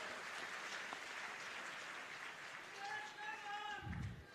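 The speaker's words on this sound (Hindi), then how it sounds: "एक बार जोरदार ताली" Crowd applause at a political mega rally in Gurugram, a continuous wash of clapping from a large audience heard under amplified speech in Hindi.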